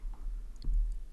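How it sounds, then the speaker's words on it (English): Two quick, faint computer mouse clicks in a quiet room, a double click made while working in a database form. "Double click on end date."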